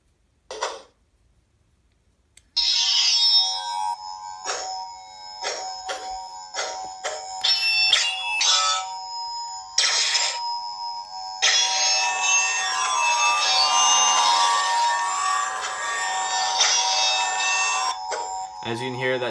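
A YDD Pernach lightsaber plays its third sound font: bright electronic ignition, a steady humming drone, and a series of sharp clashes and swings, loud and continuous, ending with a retraction.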